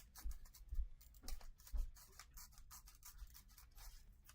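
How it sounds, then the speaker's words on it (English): Scissors snip through a Garbage Pail Kids trading card in several close, crisp cuts, with small rubbing and scraping noises between the snips. "I really do not like doing this with the scissors"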